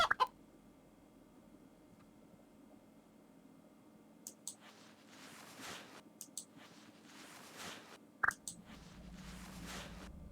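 Chickens cluck in the video game Keplerth, a few short, quiet cackles and clucks spread through a near-silent stretch, with small clicking game sounds and a low hum beneath them.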